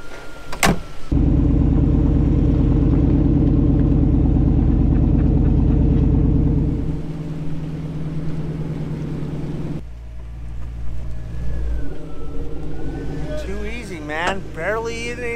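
A Jeep engine revs as the vehicle is pulled out of water onto a trailer: a loud, sustained roaring drone that drops to a lower, rougher running sound, with voices near the end.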